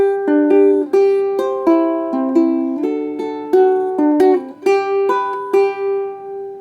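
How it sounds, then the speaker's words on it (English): A ukulele plays a finger-picked intro riff for the Happy Birthday song, bright plucked notes ringing in a syncopated outside-inside pattern, clear and solo with no talking. "So I thought I'd give us a little finger picking intro."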